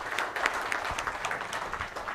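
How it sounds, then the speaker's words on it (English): An audience in a hall gives a round of applause to session participants, a moderate, even patter of many hands clapping heard at some distance, brief and without talk. "A good round of applause for all the participants"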